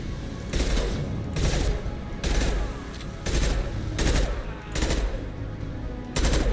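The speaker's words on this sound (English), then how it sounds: "Firing concussive shot." Weapon fire and a concussive shot from the video game Mass Effect 2 arrive in loud, repeated bursts of rapid gunfire. The bursts are separated by brief lulls of background game noise.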